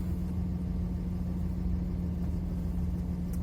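A car with a G56 transmission, freshly refilled with gear oil, drives along a road, giving a steady low engine and road rumble from inside the cabin.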